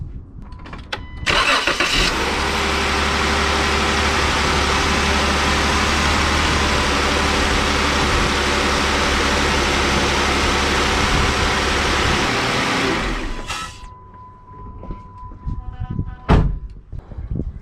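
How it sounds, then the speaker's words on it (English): A Jeep Wrangler JK engine cranks and catches at close range, then idles loudly and steadily for about ten seconds before shutting off, leaving quiet clicks and thumps. "Let's see what happens when I start up the vehicle."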